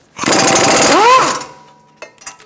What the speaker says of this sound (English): Using a 15mm socket and an extension, I'm going to remove these two caliper bracket bolts